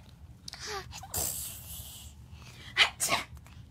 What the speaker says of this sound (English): Mommy sneezes.